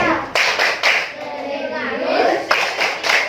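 Schoolchildren clap in a patterned chant, sharp group claps coming in short rhythmic clusters with a pause in the middle, mixed with young voices speaking along.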